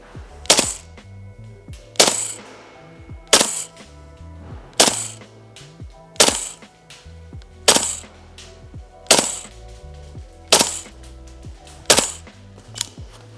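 Noveske N4 gas blowback airsoft rifle on gas at 175 PSI firing about nine sharp, loud single shots in a steady rhythm, each snap followed by a brief ringing tail, with no talking.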